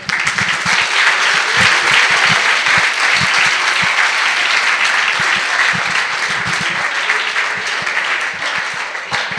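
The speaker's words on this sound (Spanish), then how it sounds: "les pido un aplauso para él" An audience at a history lecture in Mexico breaks into sustained applause, a loud, dense clapping that runs steadily throughout and eases slightly toward the end.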